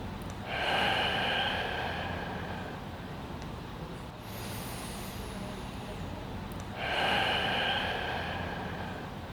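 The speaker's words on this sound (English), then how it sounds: "take a deep but silent breath in through your nose and then take a full breath out through your mouth" Deep breaths are drawn in through the nose and pushed out through the mouth, heard as two long, close, hissing airy exhales separated by a quieter inhale, steady and unhurried.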